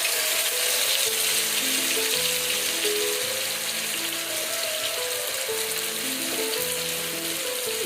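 Prawns fry in a hot pan with coconut oil and a splash of water, giving a steady, close hiss and crackle that runs unbroken throughout beneath soft background music.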